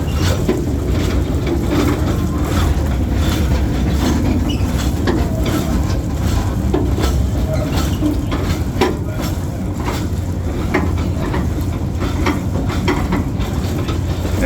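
Capital Railway park train at Six Flags America rolling along with a steady low rumble and rhythmic clickety-clack of wheels, heard from on board, continuous and fairly loud.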